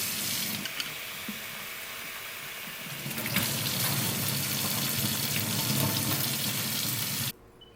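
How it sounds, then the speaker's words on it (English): Steady tap water runs over chickpeas and lentils being washed in a sink, a continuous close splashing rush that strengthens after a few seconds and then stops abruptly near the end. "First things first is we're going to wash our chickpeas."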